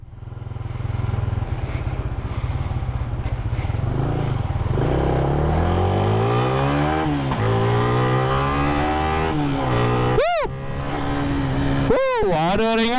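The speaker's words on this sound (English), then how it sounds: "Lama betul dah tak bawa motor ni." Yamaha Y16ZR motorcycle fitted with a new sprocket and 415 chain, its engine revving up through rising gear pulls while being ridden, loud and close throughout with a few sharp throttle blips near the end.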